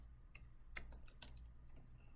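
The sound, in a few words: typing on a computer keyboard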